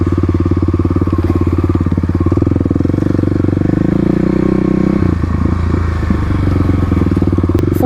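Kawasaki KLX351 Stage 3 dirt bike riding through city streets, a loud, close single-cylinder engine with a steady rapid pulsing beat that rises in pitch, then drops and crackles as the throttle eases.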